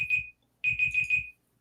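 A kitchen timer alarm rings loud and close in two bursts of rapid, shrill beeping, a short burst and then a longer repeating run, with a brief gap of silence between them.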